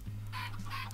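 Chickens in the Minecraft game clucking, a couple of short clucks over a steady low hum, fairly quiet.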